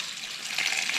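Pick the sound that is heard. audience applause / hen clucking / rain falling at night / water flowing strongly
water flowing strongly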